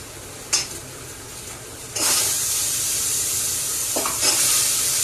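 Masala sautéed with cashews in a pan: a few quick spoon scrapes, then a loud hissing sizzle that surges after two seconds and holds steady, close and without voices.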